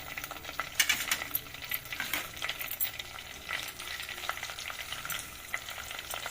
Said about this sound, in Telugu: కరివేపాకు రెమ్మలు ఇట్లా వేస్తే బాగుంటుందండి ఇప్పుడు కొంచెం కరివేపాకు రెమ్మలు